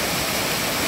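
A small waterfall near a road, heard as a steady, loud, close wash of falling water with no other sounds.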